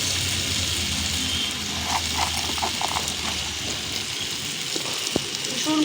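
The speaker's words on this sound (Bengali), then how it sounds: "জল দিয়ে দেব।" Water poured into sizzling chicken feet curry in a pan, a loud rushing gush over steady frying hiss, followed by a few small clinks, close up with no talking.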